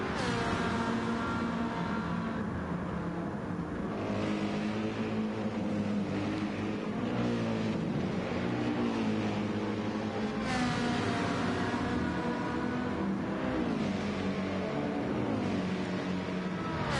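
Race car engines roar continuously in Gran Turismo 7 during the Le Mans 24 hours, a Corvette among them near Mulsanne corner, loud and sustained with shifting pitch as gears change and cars run close together.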